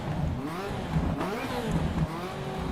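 A race car engine in a sim racing video game revs continuously, its pitch rising and falling through gear changes as a loud, steady drone with no voice over it.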